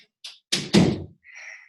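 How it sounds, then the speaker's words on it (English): A door is closed indoors: a few light handling taps, then two solid thumps as it swings shut and latches, close and loud, followed by a faint rustle. "Hold on, I'm going to close the door."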